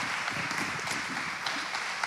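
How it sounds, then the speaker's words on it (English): An audience claps during a church service, a dense, even wash of applause that stays steady throughout and is heard close up. "Yeah, you keep clapping."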